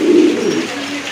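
A fancy pigeon, one of a colourful collection of show and racing birds for sale, gives a close, deep, rolling coo that sustains for about a second in a fairly quiet room.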